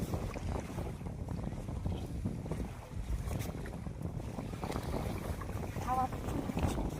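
Steady wind buffets the microphone beside Pangong Lake in Ladakh, with waves washing against the shore underneath in a continuous rough roar.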